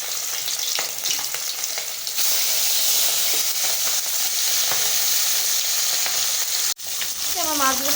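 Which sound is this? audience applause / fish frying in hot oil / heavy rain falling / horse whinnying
fish frying in hot oil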